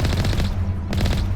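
Rapid automatic gunfire in Mass Effect, two close loud bursts of fast shots separated by a short pause.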